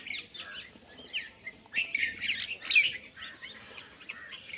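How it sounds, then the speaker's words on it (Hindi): Flock of bulbuls, mynas and sparrows chirping together on an early foggy morning, a busy, continuous mix of bright tweets and calls at moderate distance, with no speech. "बहुत सारे, और सारे बुलबुल, मैना,"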